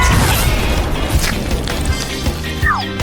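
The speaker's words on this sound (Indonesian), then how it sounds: "Ini akan meledak." Toy chocolate fountain in a dollhouse setting bursting apart, a loud, busy crash with splattering bangs and clatter through the whole stretch, ending with a brief squeaky rising tone.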